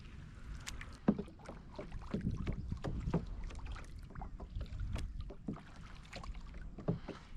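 A Vibe Shearwater 125 fishing kayak glides across slightly choppy water, with rhythmic paddle splashes, water lapping against the hull and light wind buffeting throughout, close and continuous without speech.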